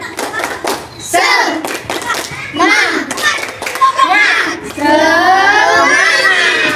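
Schoolchildren in a combined grade 2 and 3 classroom doing a rhythmic spirit clap, bursts of group clapping mixed with children's voices shouting along, lively and close.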